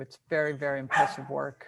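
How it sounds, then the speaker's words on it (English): A dog barks a few times close by while a person speaks over it indoors. "I'm sorry, that's my dog."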